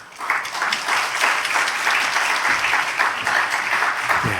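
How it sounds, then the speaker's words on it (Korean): Congregation in a rural Korean church applauding to welcome a pastor, a steady roomful of clapping hands, loud and sustained throughout. "오늘 목사님 나오실 때 우리 여러분 박수로 환영해 주시고"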